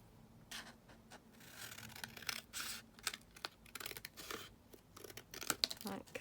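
Scissors snip through a paper tag in a crafting session, with a series of short, close cuts and paper rustling, while a person speaks softly at intervals.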